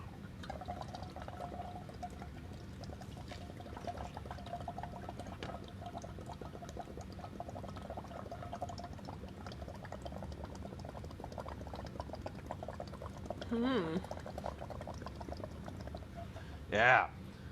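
Breath blown through a tube into bay water mixed with indicator solution makes a faint, steady bubbling, with a brief louder gurgle near the end. A voice speaks quietly at times.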